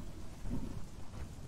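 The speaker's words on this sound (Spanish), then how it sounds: "Es de noche y está lloviendo." Nighttime rain in the video game Conan Exiles, a faint soft hiss of falling rain over a low rumbling of thunder, heard alone without any voices.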